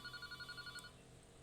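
A telephone rings in a regular repeating pattern of short electronic bursts, fairly faint and alone, then stops partway through.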